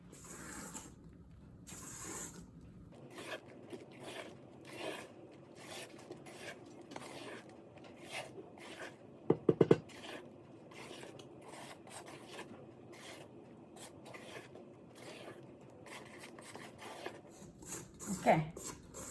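Pavlova meringue mixture is folded with a spatula in a bowl, a long run of soft scraping, rubbing strokes repeating steadily at close range with a few sharper knocks midway.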